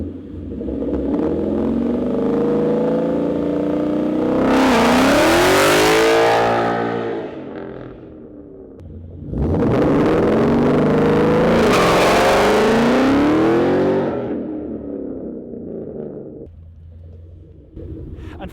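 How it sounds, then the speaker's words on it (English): A Ford Mustang GT S197 on asphalt, doing a hard-acceleration burnout. Two long, loud bursts of roaring, rising engine revs are heard, each with tire squeal, and there is a quieter idling rumble between them and after. "it's more of like a burnout on this road because it's asphalt and it's not actual concrete"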